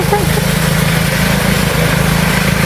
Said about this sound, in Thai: เขาขับรถตัดหญ้า